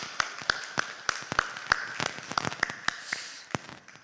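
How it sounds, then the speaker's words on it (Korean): A congregation at a Korean prayer retreat gives scattered, separate claps that ring out sharply in a reverberant hall, thinning toward the end rather than building into full applause. "지금 목사님 나오실 때에 할렐루야로 하나님 앞에 영광의 박수 올려드립니다"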